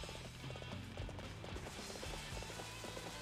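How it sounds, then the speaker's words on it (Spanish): A horse gallops in Warriors Orochi 3, its hooves beating in a quick, steady rhythm under a faint, busy battle backdrop. "Ven aquí, caballo, no corras"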